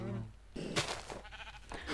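Sheep bleating in the video game Minecraft, a short wavering bleat near the start followed by other game sounds, fairly close.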